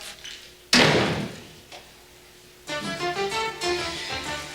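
A door shuts with a single sharp, loud slam and a brief thud after it. Music follows.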